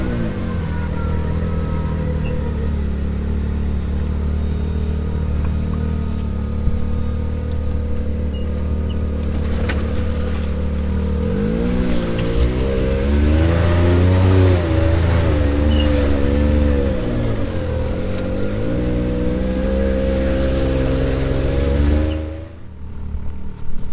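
Can-Am X3 side-by-side, a 72-inch wide machine, crawling over steep off-camber backcountry terrain, its engine droning steadily and close throughout, with a surge of revving and load changes partway through before easing off near the end.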